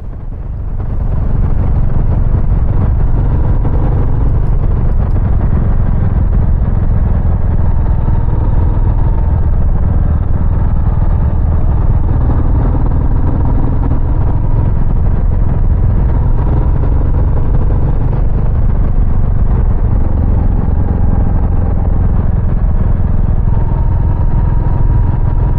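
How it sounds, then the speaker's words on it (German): A Royal Enfield Meteor motorcycle engine drones steadily while riding, a loud continuous rumble heavily mixed with rushing wind noise, with no talking. "Wir hören jetzt noch mal ein bisschen den Motorsound."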